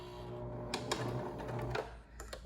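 A sewing machine stitches a fabric mask, giving a soft, faint mechanical hum with a few light clicks and short whirring runs, close by against a quiet background.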